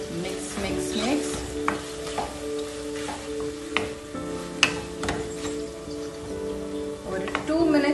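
Tomatoes with salt fry and get stirred in a pan, soft sizzling with scraping and clinking spoon strokes, fairly quiet, with a voice speaking now and then.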